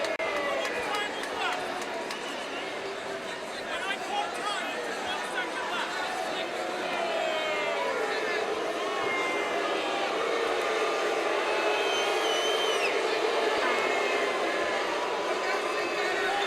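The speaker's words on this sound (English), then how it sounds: "Referee could, I believe, could not hear the timekeeper over the roar of the crowd" Roar of the crowd at an amateur women's MMA fight: a loud, continuous wash of cheering and shouting voices fills the arena throughout, with commentators talking over it.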